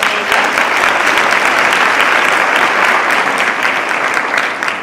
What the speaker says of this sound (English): let's get a round of applause for Helena